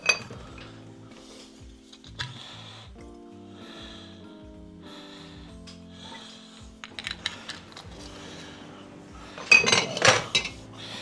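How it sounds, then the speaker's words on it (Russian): A frying pan is handled on a kitchen stove as butter and sunflower oil go in, giving quiet, scattered metallic clanks and clinks, with a busier clatter near the end. "здесь сковородка. Добавляю масло сливочное и подсолнечное или растительное масло сюда пойдет."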